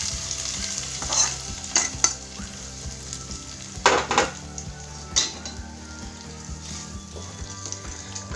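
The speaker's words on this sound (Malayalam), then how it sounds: "കടുക് പൊട്ടിച്ച് അരപ്പിലേക്ക് ചേർത്ത് കഴിഞ്ഞു" Mustard seeds splutter in hot oil for tempering a Kerala cucumber pachadi, with a low steady sizzle broken by a few sharp pops and clinks of a spoon against the pan.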